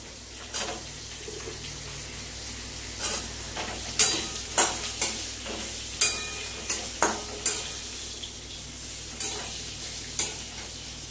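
Mixed vegetables for navratan korma frying in a pan, a steady sizzle broken by a run of sharp clattering stirs and scrapes spaced through the middle, close and fairly loud.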